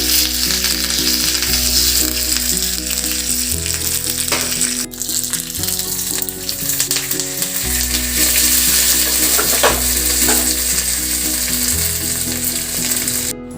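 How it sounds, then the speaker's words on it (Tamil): Hot oil sizzles and crackles steadily as mustard seeds splutter while tempering a Tamil mor kuzhambu, a continuous loud frying hiss with soft musical tones running underneath. "அரை ஸ்பூன் கடுகு போட்டுக்கோங்க. கடுகு பொரிஞ்சோடனே காஞ்ச மிளகா"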